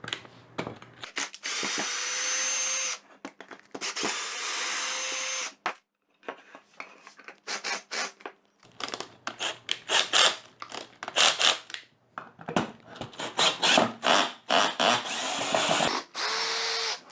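A power drill backs a stubborn screw out of very hard ipê wood in a woodworking shop, loud whining bursts that start and stop repeatedly, the motor straining and pulsing through each run.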